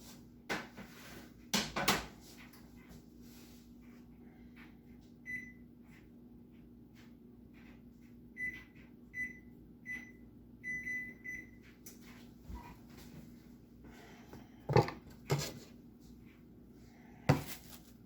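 A home kitchen oven is turned up, its control panel giving a short run of evenly spaced electronic beeps in the middle, with scattered thumps and clatter before and after.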